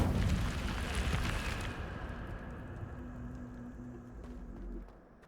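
A fire spell cast in the Hogwarts Legacy video game gives a loud roaring whoosh of flame that stays dense for about two seconds, then fades into a lower rumble with a steady hum. It ends with a short swell before dropping away.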